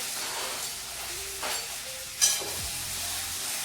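Okra vegetable cooking in a pan gives a steady, moderate sizzle and frying hiss throughout, with a brief sharper clink or scrape near the middle and no talking.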